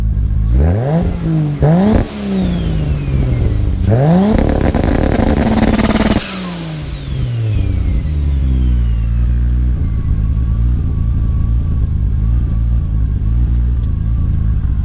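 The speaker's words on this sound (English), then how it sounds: "So I'll play the two-step for you guys right now, or the anti-lag launch control, whatever you want to call it." Turbocharged Lexus IS300 with a 2JZ engine running two-step anti-lag launch control at about 4,000 RPM and 9 to 10 pounds of boost: loud, close revving blips that rise and fall, then a sustained popping, crackling hold.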